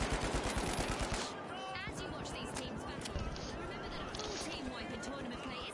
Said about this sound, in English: I'm getting beamed from a turret